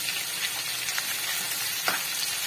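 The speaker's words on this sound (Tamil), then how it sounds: "நூல்கள் வெந்து வர அளவுக்கு வதக்கிக்கலாம் இதை" Kohlrabi (knol-khol) sautéing in a pan for chutney, a continuous close hiss of frying with a few soft stirring scrapes.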